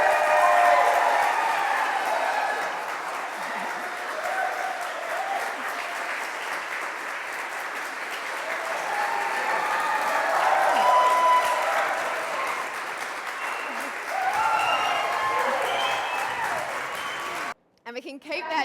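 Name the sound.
wedding guests applauding and cheering newlyweds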